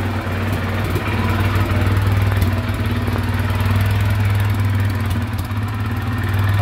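A Dinli 801 350cc ATV engine idles steadily with a low, even rumble, close by and continuous.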